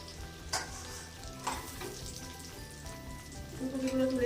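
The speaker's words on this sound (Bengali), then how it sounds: "ফুলকপিগুলো মোটামুটি আমার ভাজা হয়ে গেল।" Cauliflower florets frying in oil in a pan for paneer fried rice give a steady close sizzle, with a few sharp clinks of a utensil and a brighter hiss swelling near the end.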